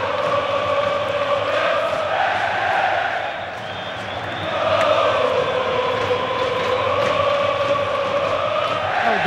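Fluminense supporters cheering and chanting in a packed Maracanã stadium during a Libertadores match, a steady roaring crowd with rising and falling sung chants that dip briefly before swelling again.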